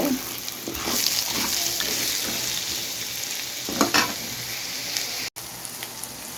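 Chopped onion softening in hot oil in a pan while being stirred for a shrimp and white fish dish, a steady close sizzle broken by scraping stirs, no voices.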